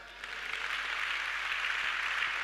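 A church congregation breaks into sustained applause during a Sunday service, a steady wash of clapping filling the room without speech.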